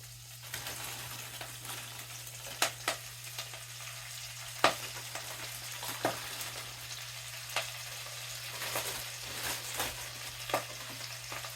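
Collard greens cook in a skillet with a steady close sizzle and frying hiss, broken by scattered clicks and scrapes as the greens are stirred, with no talking.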